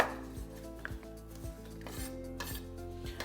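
A knife chops vegetables on a cutting board in a steady rhythm of crisp, close taps, roughly two per second, with no talk.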